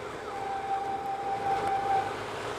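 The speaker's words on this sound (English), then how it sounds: "Sounded like an ambulance or a police car" An ambulance or police car siren wails at a distance, a thin steady tone held over a dull outdoor background rumble, with no voices.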